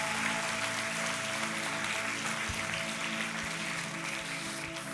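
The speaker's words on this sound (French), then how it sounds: "Est-ce qu'on peut les applaudir bien fort tous les deux?" Audience at a Momentum church service applauding for two people, a steady broadband clapping wash at moderate level throughout, with a low hum and tonal lines underneath.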